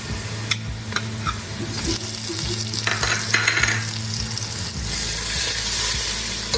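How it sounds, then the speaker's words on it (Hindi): Steady crackling sizzle of onions and garlic-ginger paste frying in a pan, with occasional stirring scrapes and clinks, continuous and close. "अब हम ऐड करेंगे लहसुन अदरक का पेस्ट।"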